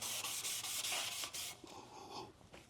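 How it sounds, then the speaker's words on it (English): Sandpaper rubbing steadily across an aluminum grill being restored, a close, loud scratchy sanding in repeated strokes that eases off in the last second, with no talk. "it follows my recipe of no more than 200 grit per jump in sandpaper"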